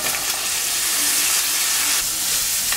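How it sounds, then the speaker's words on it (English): Eight ounces of frozen broccoli hits hot oil with a loud, steady hiss and crackling sizzle that holds without pause, close up and alone with no talking. "And this is 8 ounces of frozen broccoli. I'm gonna add this to the oil."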